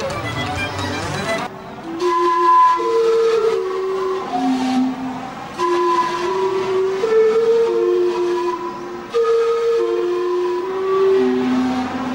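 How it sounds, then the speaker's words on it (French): Steam clock at Canada Place in Vancouver sounding its hourly steam whistle chime, a loud sequence of sustained, breathy multi-tone whistle notes in a slow melodic pattern, with steam hiss between phrases. "Le jet de vapeur a lieu toutes les heures"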